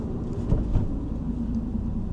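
A MINI Cooper R56 engine drones under load while being driven, a steady low cabin rumble with a couple of brief bumps, no speech heard.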